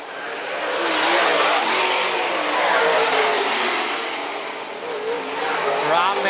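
Late model race cars at Phillips County Raceway roar past, a loud broadband engine drone that swells and fades as the cars sweep through the corner, with a voice briefly over it.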